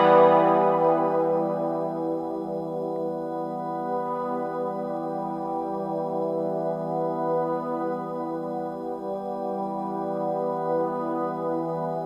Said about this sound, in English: it is sustained, and that is by looping using the sustain mode